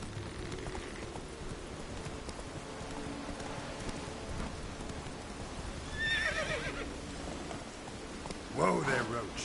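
Horse Roach from The Witcher 3 gives a clear whinny near the end of a scene filled with rain and background ambience, with a brief earlier snort-like call around the middle.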